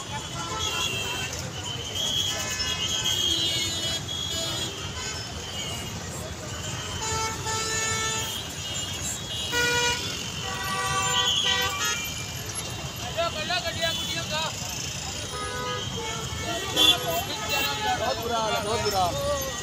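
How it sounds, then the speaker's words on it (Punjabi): Congested traffic jam at Hall Gate in Amritsar, with car horns tooting repeatedly over a dense, steady rumble of engines, and people talking throughout. "ਦੇਖੋ ਟ੍ਰੈਫਿਕ ਕਿੰਨੀ"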